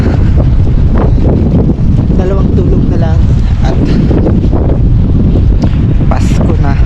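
Strong wind in Gdansk, Poland, at 6 degrees buffets the microphone in a steady roar, with a person talking over it throughout.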